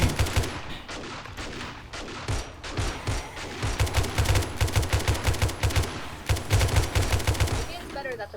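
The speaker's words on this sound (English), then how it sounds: "And just started firing." Rapid automatic gunfire in the modded zombie survival game 7 Days to Die, sustained bursts of shots in quick rhythm running through most of the stretch, loud and close, with no talking.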